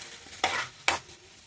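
Garlic and turmeric frying in oil for a brinjal and peanut masala fry, stirred with two quick, close spoon scrapes over a faint, steady sizzle.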